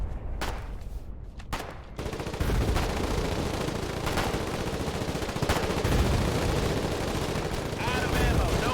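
Sustained 7.62 automatic gunfire in the war game Foxhole during colonial frontline fighting, dense rattling bursts that start sparse then run almost continuously, loud and close.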